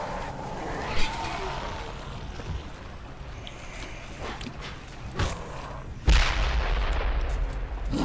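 A propane tank explodes in the zombie video game Dead Island, with a few booming blasts scattered through the scene and the biggest burst near the end, followed by a rumbling tail.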